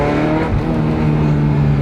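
Ferrari 355 Spider with its 375-horsepower V8 revving hard while driving on a country road, a loud, steady, harmonic engine roar with rising pitch, close and continuous throughout.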